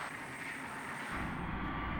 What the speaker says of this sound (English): Now ready for takeoff on runway 7.